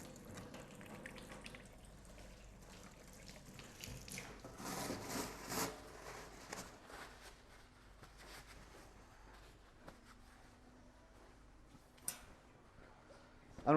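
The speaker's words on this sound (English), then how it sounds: "We're washing our hands, lots of detergent." Hands are scrubbed with plenty of detergent at a knee-activated sink in a food factory, with faint running water and soft rubbing under quiet speech, and a brief knock near the end.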